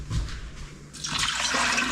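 Water from an 8-cup measuring cup pours into a pot for canning. A short splash comes first, then a steady rushing pour fills the second half.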